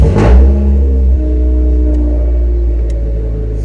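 A car engine fitted with new PPE headers revs hard at the start, then settles into a loud, steady low rumble with a deep droning tone close by.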